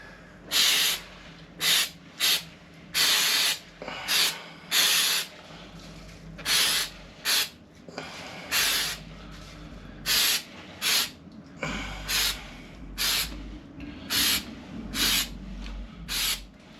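An aerosol can sprays activator adhesive onto a subwoofer cone during a recone. It gives about a dozen short, close hissing bursts in an irregular rhythm, with brief pauses between them.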